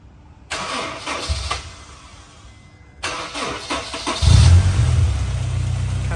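A car engine with a suspected starter problem cranks slowly in two separate attempts, then catches and settles into a steady low idle.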